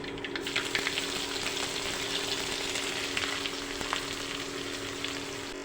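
Chopped chilli and onion hit hot oil with mustard seeds and fry with a steady, close, dense sizzle that crackles lightly throughout, with no talking.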